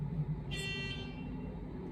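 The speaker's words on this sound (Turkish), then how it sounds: "Bu da Korna." A single car horn honks from around half a second onward for over a second, ringing clearly above steady low traffic rumble in a street in Eskişehir, Turkey.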